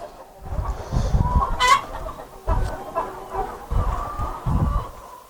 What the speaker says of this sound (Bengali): দেখেন কতটা অ্যাক্টিভ একটা মোরগ